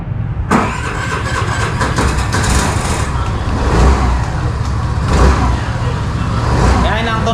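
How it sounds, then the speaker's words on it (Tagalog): A 2023 Suzuki Burgman Street 125 scooter idles steadily close by after a sharp start at the beginning, its engine a continuous mid-pitched hum with slight surges, with a voice briefly heard over it. "Yan ang tunog ng ating Suzuki Vergeman 125."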